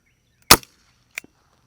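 A primer-powered 10.5-grain rubber bullet, fired with no gunpowder: one sharp, loud crack, then a fainter second snap about two-thirds of a second later, with silence around both.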